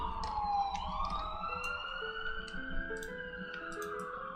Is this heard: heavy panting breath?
no